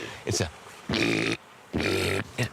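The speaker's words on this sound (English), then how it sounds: "It's a low, rumbling growl, almost like a moan growl, unlike California sea lions, which will a bark." A large male sea lion in Alaska gives a low, rumbling, moan-like growl, repeated in about four drawn-out calls of varying length with brief pauses between, close and fairly loud.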